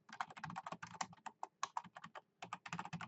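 Fingers type rapidly on a computer keyboard, giving a close, dense stream of crisp plastic key clicks with brief pauses and no voices.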